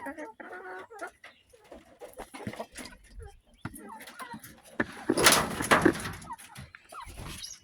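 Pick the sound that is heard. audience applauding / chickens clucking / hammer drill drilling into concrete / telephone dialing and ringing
chickens clucking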